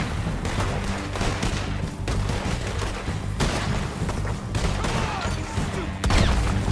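Rapid volleys of gunfire in the open-world western game Red Dead Redemption 2, loud bursts of shots repeating throughout with little pause.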